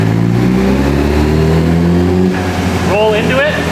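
A powersports vehicle engine revs on a dyno, holding a loud steady drone and then rising in pitch as it climbs through the RPM range, close and continuous throughout.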